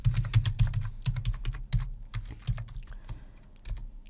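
Rapid clatter of keystrokes on a computer keyboard while an email subject line is typed out, steady close taps with brief pauses between words and no voices.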